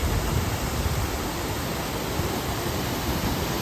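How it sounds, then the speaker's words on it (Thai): Tat Ton waterfall in Chaiyaphum, Thailand, a waterfall that flows all year over broad rock terraces, gives a steady, dense roar of rushing water with no pauses and no voices. "ถือว่าเป็นน้ำตกที่มีน้ำไหล"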